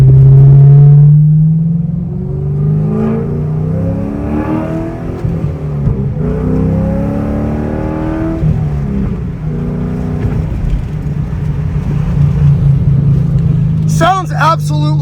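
A C6 Corvette fitted with a loud Speed Engineering exhaust revs repeatedly, its deep rumble climbing and falling in several rising pulls. Near and loud throughout, with a sharp burst near the end.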